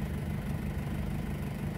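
An Isuzu 4JX1 diesel engine idling smoothly after an EGR valve and throttle plate delete, a steady low rumble with constant vibration throughout, close and alone without talk.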